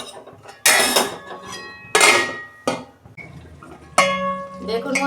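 A metal lid is set on a cooking pot of mutton curry with three sharp clanks, each followed by a short ringing decay, close by, with a voice speaking quietly between them.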